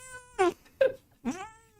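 A large cat meows three times in a row, each cry drawn out and whiny, loud and close in an otherwise quiet room.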